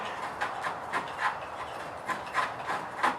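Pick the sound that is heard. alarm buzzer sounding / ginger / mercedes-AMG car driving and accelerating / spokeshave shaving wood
spokeshave shaving wood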